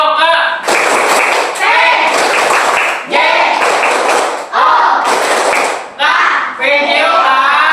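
A group standing together performs the PJO clapping chant, bursts of loud, dense clapping mixed with voices chanting in rhythmic phrases, separated by short pauses, close and energetic.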